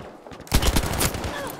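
Gunfire in Battlefield V, set on a Lofoten or Provence map in a Squad Conquest or Team Deathmatch match: after half a second of quiet, a loud close burst of rapid shots erupts and keeps rattling through the rest of the moment.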